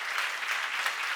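Church congregation applauding at a seminar, a brief burst of steady, dense clapping at moderate volume with no voices over it.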